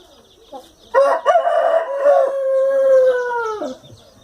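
A young rooster, about nine months old, crows once loudly and close, a long drawn-out call lasting a few seconds after a brief cluck, with no talking.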